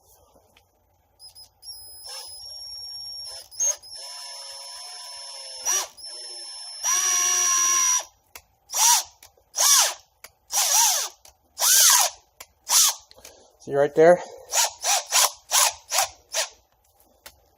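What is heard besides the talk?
drill clutch slipping while running tap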